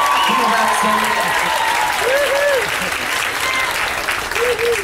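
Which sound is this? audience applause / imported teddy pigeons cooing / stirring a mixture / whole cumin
audience applause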